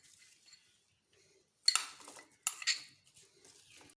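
A spoon clinks against a serving bowl while cake pieces and fruit are mixed for a fruit custard, giving two sharp close metallic clinks with soft scraping and stirring between them in a quiet kitchen.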